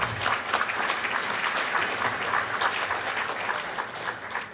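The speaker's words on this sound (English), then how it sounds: "Wow, applause already." Audience applause at a lecture on fossil fuels and climate change, a dense steady wash of many hands clapping at moderate distance, sustained throughout without talk.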